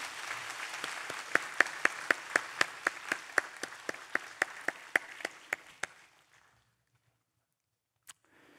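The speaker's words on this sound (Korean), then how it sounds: "다 같이 환영과 격려의 박수 부탁드립니다" A church congregation at a Sunday afternoon service applauds in welcome and encouragement, with dense steady clapping and louder individual claps standing out on top. The clapping fades out after about six seconds into near silence, followed by one faint click.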